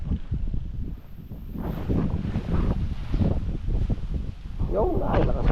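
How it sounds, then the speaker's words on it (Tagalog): Strong wind buffets the microphone in steady roaring gusts outdoors near a seaside fishing area, with low rumbling bursts filling the whole stretch and a brief higher flutter near the end. "lakas ang hangin"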